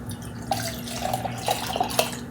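Water from a tap runs and splashes into an emptied tomato can held over a kitchen sink, a steady rushing pour with small irregular splashes and drips throughout.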